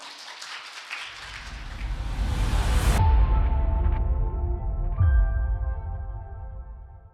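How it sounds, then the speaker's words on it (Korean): An audience at a Korean science lecture applauds for a few seconds while a bright synthesized musical sting with a low whoosh swells over the clapping and rings out. "첫 번째 파트 여러분들의 박수로 만나보도록 하겠습니다."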